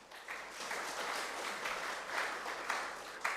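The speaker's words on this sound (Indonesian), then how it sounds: "Maka tepuk tanganlah untuk Tuhan." A church congregation claps together steadily during a worship service, sounding as a soft, even patter of many hands at a moderate distance.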